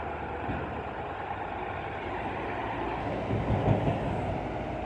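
A steady, heavy rumble of a train rolling past close by, with a low mechanical roar that swells slightly near the end.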